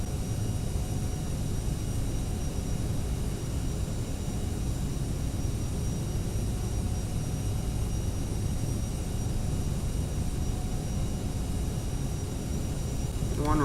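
A Skywest jet airliner rolls for takeoff in the Prepar3d flight simulator, with a steady, even engine roar and broad rushing noise running unbroken throughout.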